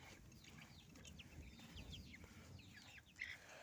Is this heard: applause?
no